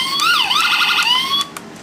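A 1:18 Motormax LAPD toy police car siren wails loud and close, its electronic tone sweeping down and back up in a steady cycle before cutting off, followed by a couple of faint clicks.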